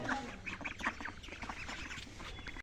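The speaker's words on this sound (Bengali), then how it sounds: "হাঁস কত সুন্দর করে শুয়ে রয়েছে" Faint resting ducks quack softly amid a busy, noisy outdoor background, with scattered short calls throughout.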